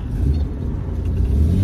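1972 Datsun 240Z survivor, an S30 with about 55k miles, pulling out and accelerating, a steady low engine rumble heard close and even throughout with no talk over it.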